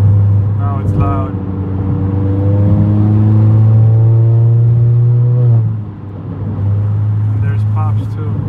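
A tuned exhaust on a 2019–2020 Honda Accord Sport 1.5T, in stage 2 sport mode, drones loudly and steadily, its pitch climbing as it revs before dropping off briefly and picking back up, all heard from inside the car.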